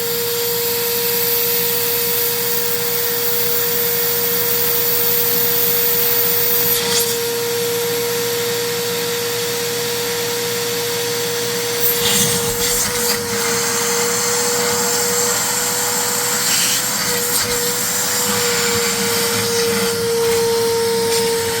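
Vacuum cleaner hose sucking ice blockage out of the drain line of an LG refrigerator, a loud constant motor whine held close throughout, with brief scraping and rubbing bursts from the hose partway through and no talk.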